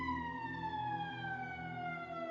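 Police sirens wailing, a steady loud tone whose pitch slowly slides downward, heard alone without speech.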